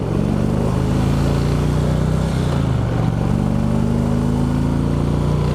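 A 2016 Indian Roadmaster motorcycle with a 111 cubic inch engine rumbles close by, a deep steady throb that dips briefly and then rises again as the revs climb.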